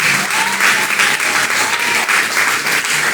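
Loud, continuous applause fills a church during an afternoon service at the IEPCD regional headquarters, with the congregation clapping in a thick, even roar throughout.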